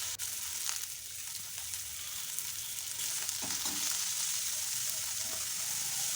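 Thinly sliced onion sizzles steadily in a hot pan for kottu, a continuous bright frying hiss with occasional faint stirring scrapes throughout.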